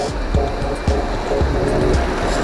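Surf washes up a storm-hit beach in repeated soft surges under a steady watery hiss, fairly close and moderately loud, with no talking.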